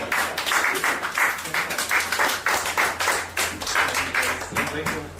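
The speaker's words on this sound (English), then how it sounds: "a round of applause, please" Clapping from a small crowd at a cycling esports championship awards ceremony, a steady patter of hands lasting the whole stretch with some voices mixed in.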